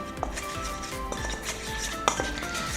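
Icing sugar and dry ingredients are mixed in a bowl, with light clinking and scraping of a utensil against the dish and a few sharper taps, heard close but quiet, and no talk.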